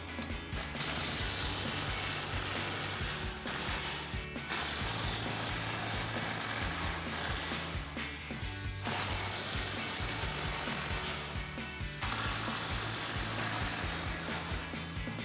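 An impact wrench drives the bolts of a heavy-duty grille guard on a 2020-2023 Chevrolet Silverado 2500, heard up close as long, loud rattling bursts separated by short pauses.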